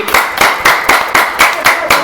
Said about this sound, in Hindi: ताली एक साथ बजेगी।